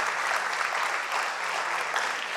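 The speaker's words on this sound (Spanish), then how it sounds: "un aplauso para él" A crowd at an engineering seminar claps steadily and evenly, a continuous bright burst of applause with no voices standing out.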